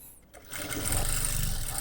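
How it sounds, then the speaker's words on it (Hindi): A sewing machine runs steadily, sewing a double row of long stitches to attach lace, starting after a brief pause and holding a continuous mechanical whir close by. "इसमें हम डबल सिलाई लगाएंगे, चाल थोड़ी लंबी ही रखनी है"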